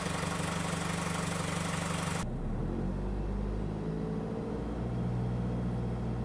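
A car engine idles steadily while warming up to operating temperature before an automatic gearbox and transfer case oil change, a continuous low rumble after a brief louder broadband burst at the start, with no one talking.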